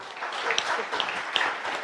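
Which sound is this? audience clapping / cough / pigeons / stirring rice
audience clapping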